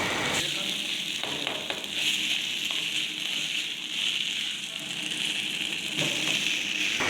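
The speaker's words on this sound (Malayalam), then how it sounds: "നല്ലപോലെ ഇളക്കിയതിന് ശേഷം നമുക്കൊന്ന് പത്ത് പതിനഞ്ച് മിനിറ്റേക്ക് ഒന്ന് വരട്ടിയെടുക്കാം" Okra and crushed coconut stir-fry in a pan for a Kerala thoran, giving a steady, close sizzle with faint scraping of stirring and no talk.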